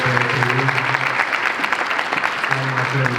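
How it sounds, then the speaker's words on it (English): Loud, dense applause from an audience cheering for performer Nicholas at a performance show, continuous clapping throughout with a voice speaking over it at the start and end. "So big round of applause for Nicholas"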